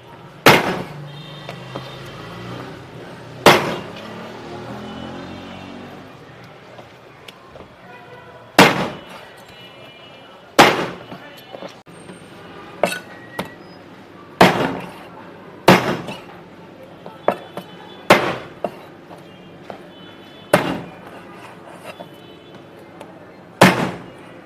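Rabbit meat being chopped through the middle for barbecue, with about a dozen loud, sharp cleaver thuds on a board, spaced unevenly and ringing briefly, with quieter handling sounds between strikes.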